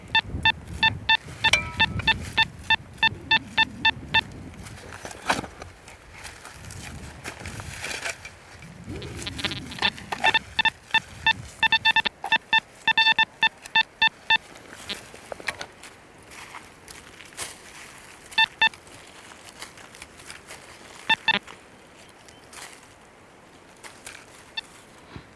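An XP Deus metal detector running a Sonar program sounds off over a lead token, giving repeated bright tonal beeps in bursts, with footsteps and outdoor rustle between the signals.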